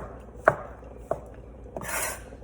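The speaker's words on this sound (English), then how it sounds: "grabbing the mushroom and slicing it through, letting the knife do the work" A knife slices through mushrooms onto a cutting board in three crisp, close cuts about half a second apart, followed by a short scraping swish across the board. No one speaks.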